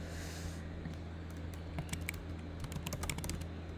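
Rapid typing on a computer keyboard while entering text, with keystrokes clicking close up in uneven bursts over a steady low hum, no voices.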